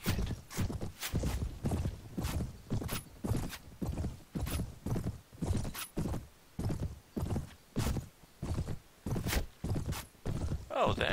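Hooves of a Noldor horse in the Mount & Blade game, Prophesy of Pendor mod, a loud steady clip-clop walking rhythm of regular thudding steps close by, with a brief neigh near the end and no voices.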